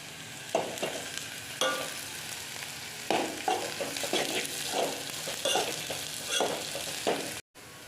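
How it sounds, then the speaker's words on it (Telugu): Onions frying in a pan for egg curry, a steady close sizzle broken by repeated stirring scrapes every second or so, with no voices, cutting out briefly near the end. "ఆనియన్స్ని బాగా వేయించాలి"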